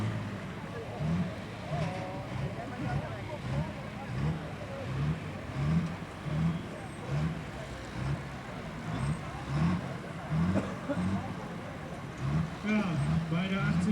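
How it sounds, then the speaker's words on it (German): Tractor-pulling machine at a 1994 Sottrum pull, its engine straining in a steady pulsing drone heard from some distance, while a commentator talks throughout. "Der Motor erstirbt bei der 90 Meter Marke."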